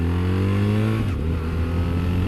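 BMW R1300 GS Enduro motorcycle engine droning steadily up close, its pitch climbing then dropping off as the revs fall away, heard alone without talk.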